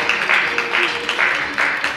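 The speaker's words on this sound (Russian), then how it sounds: "Ваши аплодисменты." Audience applause for the winning dancer at a belly dance beauty pageant, a steady burst of clapping with pulsing swells, fairly close and filling the room.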